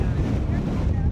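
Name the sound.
wind blowing on a whale watching boat heading into it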